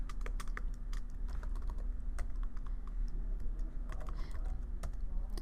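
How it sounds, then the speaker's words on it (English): Steady rapid typing on a computer keyboard as a web address is entered, close and fairly quiet, with crisp irregular key clicks running throughout over a low background hum. "Let's just type in"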